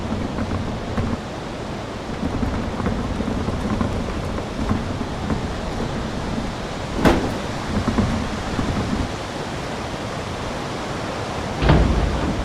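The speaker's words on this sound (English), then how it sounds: "Gust of the wind raised the construction garbage up the sky." Strong wind gusts at an outdoor construction site, a loud continuous roar and buffeting close to the microphone, with a couple of sharper bursts.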